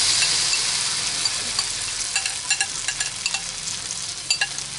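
Beaten egg fries in oil for fu yung hai, a continuous sizzling hiss broken by light scraping stir strokes and small spattering pops, near and without talk.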